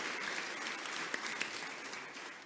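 Soft, distant applause fills a State House chamber, an audience clapping steadily with a few sharper claps standing out before it begins to fade.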